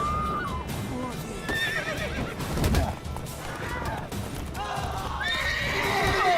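Roach, Geralt's horse in The Witcher 3: Wild Hunt, gives several loud, close whinnies with hoof clip-clops, set among game sound effects and the clatter of combat.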